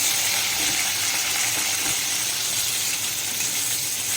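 Tomato and green chili frying in hot oil after the onions are browned, for a tilapia in spicy oil curry: a steady, even hiss of sizzling throughout, moderately loud and with no talk over it.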